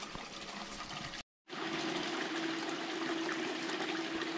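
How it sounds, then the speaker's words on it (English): Water rushing steadily through a Little Miracle gold sluice by the Fortymile River near Chicken, Alaska, a continuous broadband wash broken once by a brief dropout before resuming. "we're going to run the little miracle sluice with the minus 20s and see what we get"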